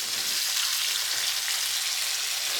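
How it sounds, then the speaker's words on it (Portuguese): Food sizzles steadily in a hot frying pan on a home stove while a family lunch is cooked, a continuous close hiss with fine crackle and no voices. "Ignora o barulho da fritura ali"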